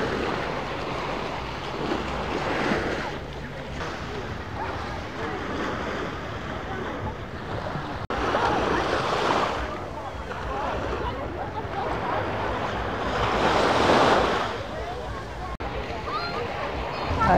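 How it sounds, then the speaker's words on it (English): Sea waves rolling in along the seaside promenade at Paignton, Devon, a steady wash of surf with swells and strong wind buffeting the microphone. "the sea is really coming in now"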